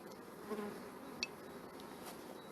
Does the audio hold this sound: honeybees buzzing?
yes